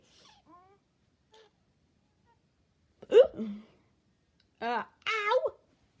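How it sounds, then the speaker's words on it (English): Freddy, a cartoonish game character, hiccuping in a string of squeaky, voice-like hiccups: a few faint chirps at first, then louder, sharper yelps toward the end, each brief and separated by silence. "He has the hiccups."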